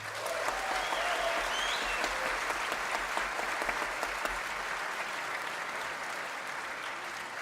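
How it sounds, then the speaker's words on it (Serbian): A concert audience applauds a bass clarinetist, a steady, dense wash of clapping that holds at an even level throughout, with no voices on top. "Molim vas aplauz za Joris Roelovsa."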